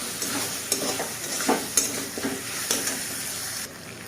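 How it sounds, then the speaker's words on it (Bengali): Diced potatoes stir-fried with spice masala in a pan for a Bengali lentil and fish-roe dish: a steady sizzle broken by irregular scraping strokes of a spatula stirring, close and moderately loud, with no talking. "আবার ভালো করে আলুর সাথে মশলাটা কষিয়ে নেবো, ফুটে যাবে"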